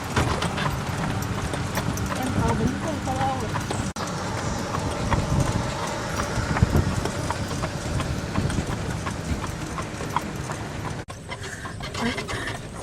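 Horse hooves clip-clop steadily and continuously at a walking pace, fairly close and prominent, while people talk over them throughout.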